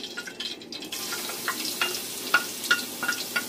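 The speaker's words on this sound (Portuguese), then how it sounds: "Vamos dar uma fritadinha no alho." Garlic frying in a pan while a traíra fish dish is prepared, giving a steady close sizzle with crackling pops and spits scattered across it, no voices.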